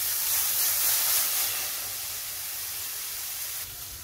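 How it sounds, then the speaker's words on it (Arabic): Carrots sautéing in a frying pan with a little salt, spices and garlic, giving a steady, even hissing sizzle that runs the whole time with no talking, easing slightly softer toward the end. "وهنا نفس المقله غادي نسوطيو الخيزو ديالنا"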